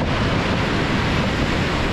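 Winter surf on a beach with waves about 1.5 metres high and a gentle south-southwest wind, making a steady, dense roar and rush that fills the short stretch without pause.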